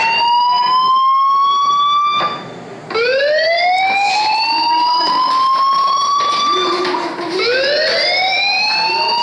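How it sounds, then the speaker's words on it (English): A synthetic fire alarm in the video game Life is Strange wails in rising, repeated tones, loud and continuous with brief dips, sounding electronic like a game effect. "do you hear that fire alarm? That means you should be outside."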